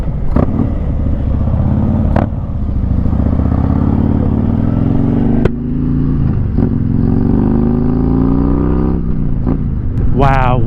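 A Harley-Davidson touring bagger motorcycle rumbles steadily and loudly while being ridden, its engine note rising and falling through gear changes, with a voice briefly heard over it.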